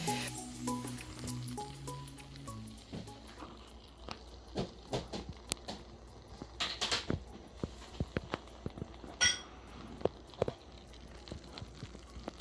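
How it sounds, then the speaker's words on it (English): A baked vegan blueberry dish bubbling in a ramekin, a series of soft wet pops and squishy bursts at irregular intervals, close and quiet, with a brief tonal sound at the start. "Just wanted to pause for a cause for you to hear the bubbles"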